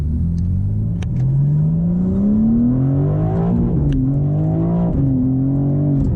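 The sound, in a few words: BMW M4 CSL engine downshifting to first gear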